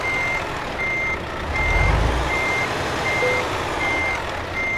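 A truck backs up while parking at night in the rain in Euro Truck Simulator 2, its reversing alarm beeping at an even pace over a steady engine and rain hiss, with a brief low rumble midway.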